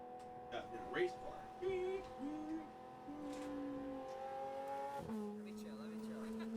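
A race car in a video game drives with a sustained engine whine, pitch stepping between gears and dropping sharply once, mixed under a person talking.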